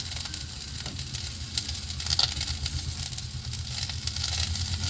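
Mixed leafy greens and cabbage sizzle in mustard oil in a pan, a steady close crackling hiss with faint stirring noises and no talking.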